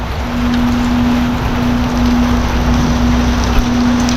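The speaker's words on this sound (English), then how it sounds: "of course here comes some more rain." Rain falling steadily outdoors, a dense even hiss of drops on surfaces, loud and continuous, with a low steady hum beneath and no talk.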